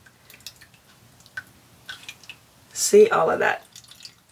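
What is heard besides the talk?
cauliflower juice dripping through a strainer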